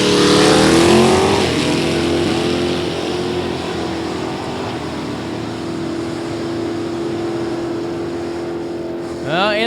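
A Capri drag car races at an NHRA Division 3 event on the Route 66 racetrack. Its engine roars loudly up front and then fades into a steady, distant drone. An announcer's voice cuts in near the end.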